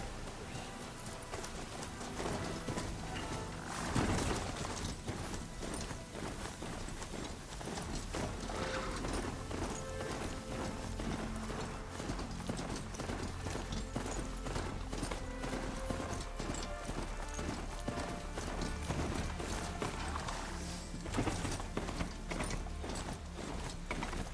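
A galloping machine mount named Pulse in Horizon Zero Dawn, with fast, rhythmic mechanical hoof clops layered with clanking, ratcheting gear sounds, steady and fairly faint throughout.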